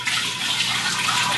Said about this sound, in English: we are going to carefully pour this solution